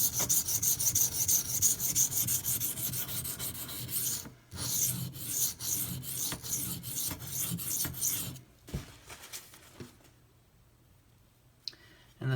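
A knife blade ground on a HAIDU silicon carbide whetstone, repeated rasping strokes in a steady back-and-forth rhythm, close and fairly loud, fading to sparse scrapes near the end.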